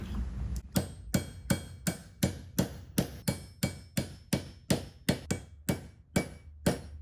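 Sharp metal hammer blows drive washers on an anvil in a steady, even rhythm, about fifteen ringing hits in a row, close and loud.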